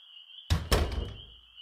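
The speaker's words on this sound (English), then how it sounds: "Good night, she said as she closed the door." A door swung shut in a quiet room, giving two close, heavy thuds about a fifth of a second apart that fade into a short rumble, with a faint steady hum before and after.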